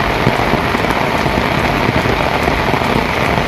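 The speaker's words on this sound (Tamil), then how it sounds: "திருவையாறு உள்ளிட்ட பகுதிகளில் 30 நிமிடங்களுக்கு மேலாக கனமழை கொட்டி தீர்த்தது." Heavy monsoon-style rain pours down steadily in Thiruvaiyaru, a loud, continuous dense hiss of downpour close by with no voices over it.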